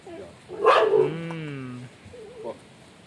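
A dog of an Indian breed gives one close, drawn-out bark that trails into a whine, followed by quieter sounds.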